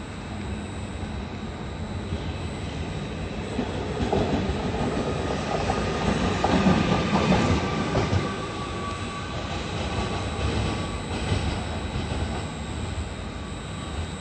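A Trenitalia regional train rolls through Padova station with a steady loud rumble, rhythmic wheel clatter over the rails and some faint squeal as the cars pass close by.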